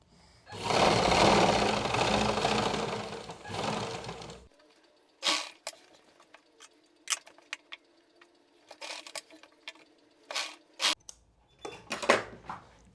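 A sewing machine stitching the fold of a palazzo pant, a loud continuous whirring run of rapid stitches for about four seconds, followed by scattered short clicks and bursts of handling.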